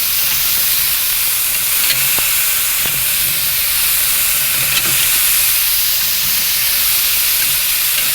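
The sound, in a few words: burping a Grill Dome kamado lid, releasing hissing steam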